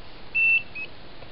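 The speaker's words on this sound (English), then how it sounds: "And here is a buzzer." An electronic buzzer wired into a squishy dough circuit gives two short, steady beeps, the first longer than the second, over a faint background hiss.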